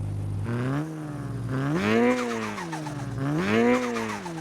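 A Honda Civic Type R engine with a turbo in Car Parking Multiplayer, revving in repeated rising and falling sweeps, loud and close, with no one talking.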